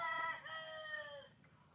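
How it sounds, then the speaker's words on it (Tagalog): A one-year-old rooster crows once, close by, in a short clear call that trails off after about a second and a half. "Itong rooster, mga ano siguro to."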